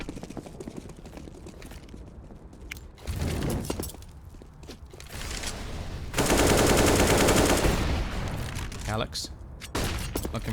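Bursts of rapid gunfire and sharp sniper-rifle cracks from Counter-Strike on the Overpass map ring out in a pro esports match, with heavy sustained volleys mid-clip between quieter stretches.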